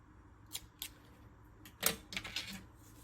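Scissors snip a yarn tail while finishing the feet of a crocheted amigurumi chicken: a few short, crisp snips spaced apart, close and fairly quiet.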